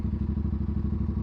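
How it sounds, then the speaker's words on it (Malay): An Aprilia RS457 motorcycle engine idles with a steady, fast ticking of valve clicks over a low, even rumble. The bike is close by and no one talks. "Ni bunyi standard lah, bunyi valve dia."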